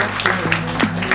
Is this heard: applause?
yes